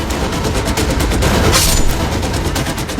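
Gunfire from an extortion shooting in Delhi, heard as loud, dense rapid bursts of shots that carry on without a break for a few seconds, harsh and close, with a brighter burst partway through.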